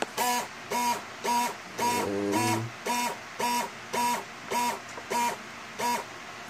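Aircraft landing gear extends during a gear test, heard as a regular pulsing mechanical hum in about nine evenly spaced bursts, loud and close, with one longer, lower grinding stretch partway through.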